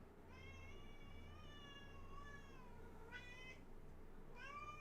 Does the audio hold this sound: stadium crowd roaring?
no